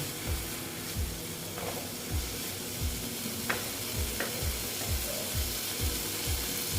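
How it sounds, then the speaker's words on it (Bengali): Tomatoes fry with okra in a pan under a dense, constant sizzle, while a spatula stirs in a regular rhythm of soft thumps and scrapes, close and steady. "টমেটোগুলো দিয়ে আবার আমি এটা এটার সঙ্গে ভালো মতন কষিয়ে নেব"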